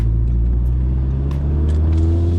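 A 399 hp Audi S3 engine pulls hard under full acceleration during a high-speed run, a loud, steady droning roar with deep rumble holding throughout, heard from the car's cabin with no talking.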